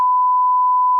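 A steady, loud one-second censor beep at a single pitch, used to blank out a spoken phone number, plays alone with no voices.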